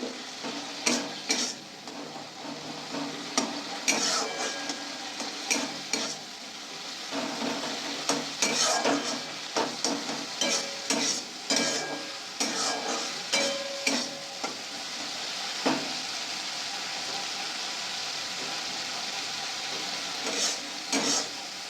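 Spices for a bata fish curry are stir-fried in a pan: a steady sizzle runs throughout, broken by frequent close spatula scrapes and clinks, with no talk.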